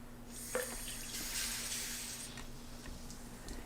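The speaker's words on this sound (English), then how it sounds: "so I'm going to do the rest with just some water" Water is poured into an Instant Pot as a steady, quiet stream with a faint splash near the start, and no voices are heard.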